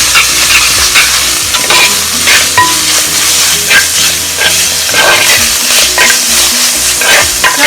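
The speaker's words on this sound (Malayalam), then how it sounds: "അതിലേക്ക് നമ്മള് ഇഞ്ചി വെളുത്തുള്ളി പേസ്റ്റ് എടുത്ത് വെച്ചത് ആഡ് ചെയ്യാം. അതൊന്ന് സോട്ട് ചെയ്തിട്ട്" Ginger garlic paste sautés with onions in a hot pan while a squid masala is prepared, a loud, constant sizzle and frying crackle broken by repeated scraping stirs of a spoon.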